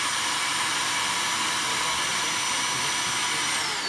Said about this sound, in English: Draw the syrup basically through the filter using the vacuum from the shop vac.